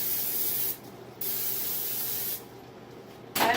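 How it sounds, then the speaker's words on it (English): Pam cooking spray hisses into a 9-inch baking pan in two close bursts separated by a short pause, with the start of a third at the very end. "we're going to put some Pam spray"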